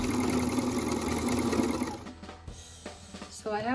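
A sewing machine runs steadily as it stitches a long continuous fabric strip along the front edges of a vintage-style pinafore, then stops about halfway through, leaving a few faint handling clicks.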